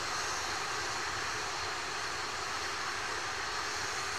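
From far off, the RD-180 engine of an Atlas V rocket gives a steady, broadband roar during launch, a continuous rumbling wash with no voices over it.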